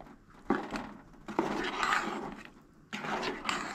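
Mango sasav being mixed with water in a pot, with a few knocks and clinks of a spoon against the pot and soft sloshing stirring between them, close and moderately loud.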